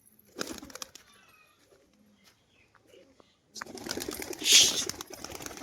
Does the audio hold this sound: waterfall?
no